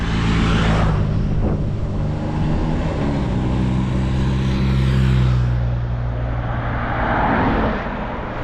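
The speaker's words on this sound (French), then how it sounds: "Ah ben non, voiture balai." A support car trailing a women's road cycling stage race drives close past, its engine and tyre rumble swelling loudly then fading over several seconds, with no talk over it.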